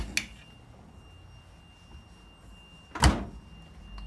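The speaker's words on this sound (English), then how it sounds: "French door." A French door inside a 2013 Allegro Bus motorhome opens with a short click and then shuts with a louder thunk a few seconds later, close and alone in a quiet room.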